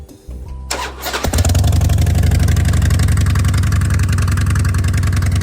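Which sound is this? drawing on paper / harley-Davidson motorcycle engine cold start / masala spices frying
harley-Davidson motorcycle engine cold start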